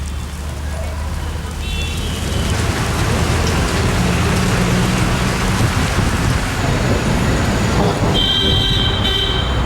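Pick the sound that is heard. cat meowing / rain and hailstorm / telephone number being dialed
rain and hailstorm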